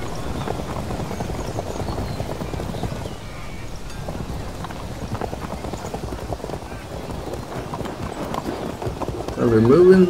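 Cavalry horse units gallop in the strategy video game Field of Glory: Kingdoms, a steady rapid clip-clop of many hooves rolling under a dense battle din, swelling louder at the very end.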